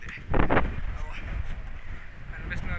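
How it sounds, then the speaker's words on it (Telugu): Strong wind at a beach buffets the microphone with a low, continuous roar, and brief muffled voices rise over it early on. "గాలి చాలా ఎక్కువ ఉంది,"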